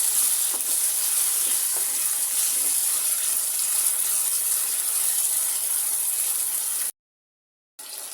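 Garam masala and tomatoes fry in a pan for a minced meat and potato curry, giving a steady, loud, hissing sizzle that continues without pause until a brief dropout near the end.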